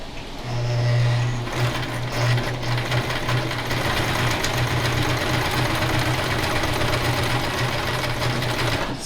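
A sewing machine stitches a quilt in a steady, close, humming run of rapid needle strokes lasting several seconds with a faint mechanical rattle, no talking over it.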